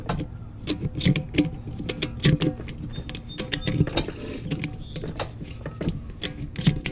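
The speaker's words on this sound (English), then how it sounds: "You can see as I'm cranking on it, it's pushing it closer and closer to the inside bead." A hand-cranked tool ratchets in a tire, pressing a tractor tire toward its inside bead with a run of close, irregular clicks and metallic clanks.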